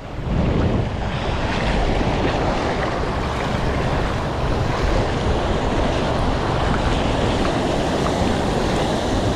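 Ocean waves at sea off Canlocani, Dapitan City, heard from a fishing boat; a steady loud roar of surf and wind buffets the microphone without a break.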